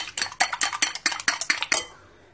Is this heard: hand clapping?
no